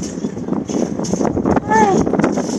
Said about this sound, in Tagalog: Sobrang hangin guys.